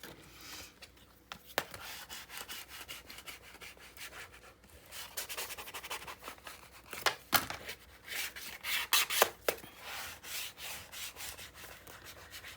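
Firm rubbing and scraping of a fingertip or tool burnishing adhesive tape onto a paper mini album gusset, in uneven strokes that grow more vigorous, close and alone.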